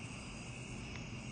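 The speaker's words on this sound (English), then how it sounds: "all the little crickets and locusts out there, they are so loud" Crickets and locusts chirp in a dense, steady drone outdoors at night, loud and continuous throughout.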